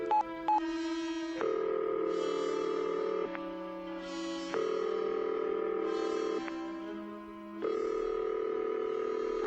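Telephone dialing tones over a speakerphone in a hospital office: a string of steady electronic tones in sustained blocks with short gaps, fairly loud and clear with no talk.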